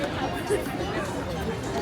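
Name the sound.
crowd chatter walking through Disneyland New Orleans Square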